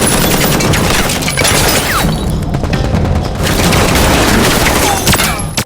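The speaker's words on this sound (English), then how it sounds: "Due to Gilly's fierce gunfire, Murphy and Roberta had to hide." Dense, continuous bursts of gunfire with heavy booms and crashes, loud and chaotic throughout, like a sustained firefight up close.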